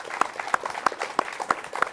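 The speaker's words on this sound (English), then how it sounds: "Give me a round of applause for Rachel Hoff." An audience claps for Rachel Hoff, sparse individual claps spaced in a loose rhythm rather than a full ovation, close and moderately loud.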